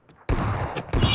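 Shotgun blasts in PUBG Mobile, two sharp loud shots about two-thirds of a second apart, each with a short ringing tail, after a faint click.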